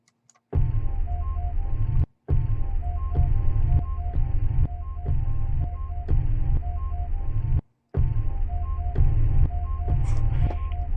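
A music sample is pitched down an octave into a deep, throbbing hum that plays in repeated loud phrases, briefly cut off twice, with no voices.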